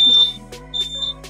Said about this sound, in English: when I press the button at the transmitter end, you can hear the buzzer